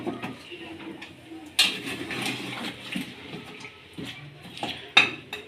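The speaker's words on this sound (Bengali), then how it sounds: "কিছুটা নাড়াচাড়া করে নিতে হবে।" A spoon stirs cooked nalli (bone marrow pieces) in a pot on the stove while making nihari, giving two sharp metallic clinks against a low, muffled kitchen background.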